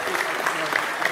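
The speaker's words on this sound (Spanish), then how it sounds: "Damos un caluroso aplauso a estos hombres valientes del Salvador y, por supuesto, de Costa Rica." Audience applause for rescue workers from El Salvador at a public event in Costa Rica, steady dense clapping throughout, fairly loud and close, with no talk over it.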